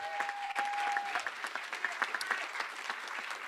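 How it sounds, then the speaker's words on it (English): Audience at a Bermuda College commencement ceremony applauds, a steady wash of many hands clapping with a few sharper claps and a faint tone at the start. "Let's give her another round of applause."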